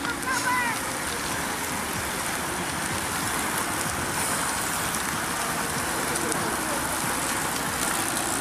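Steady rain falls across an outdoor site at Versailles Satory during an early-April cycling race day, a dense continuous hiss over the whole span with a faint voice early on.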